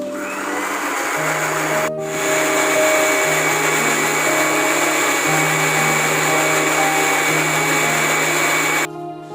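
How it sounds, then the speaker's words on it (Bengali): An electric blender whirs steadily as it mixes vanilla cake batter with icing sugar, a loud continuous motor drone that shifts slightly in pitch and cuts off near the end. "আবারও ভালো করে ব্লেন্ড করে নিচ্ছি।"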